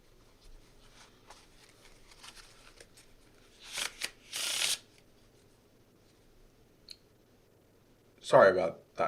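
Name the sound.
shuffling a deck of playing cards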